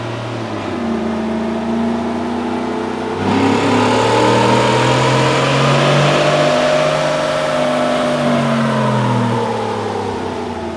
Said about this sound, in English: let's do another dyno run to see what we got.